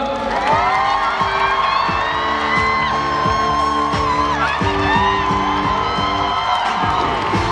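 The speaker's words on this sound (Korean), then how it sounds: "큰 박수 부탁드리겠습니다" Concert crowd in a gymnasium hall cheering and shouting at the end of a show, loud and continuous, with whoops and yells layered over scattered claps and a faint voice beneath.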